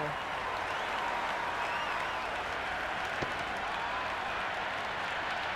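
Cricket crowd at a Big Bash match between Brisbane Heat and Adelaide Strikers applauds a boundary with dense, sustained clapping and cheering throughout, while a commentator talks over it.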